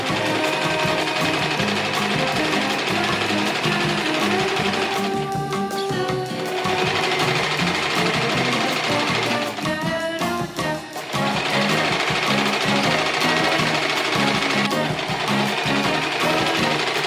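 A sewing machine stitches quilting lines through very thin, flimsy fabric made from neckties, running steadily and close with a couple of short pauses where the stitching stops and restarts.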